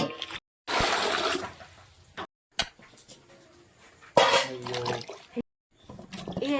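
Tap water gushes and splashes over raw plantains being washed in a kitchen, coming in loud bursts broken by short silences, with light clinks of a vessel and trickling in between.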